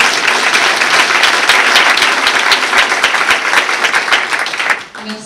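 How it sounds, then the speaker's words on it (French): Dense, loud applause from a large audience at a French-language talk, a continuous wash of many hands that fades near the end as a voice begins. "Et je vous demande de l'applaudir bien fort pour l'encourager."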